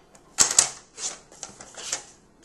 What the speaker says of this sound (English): so let's go ahead, trim this up here with the trimmer